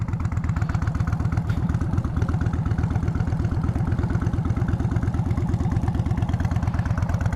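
A cafe'd 2015 Yamaha Bolt motorcycle idles about 10 to 12 feet away, its exhaust giving an even, rapid, gurgling thump that holds steady throughout with no talking.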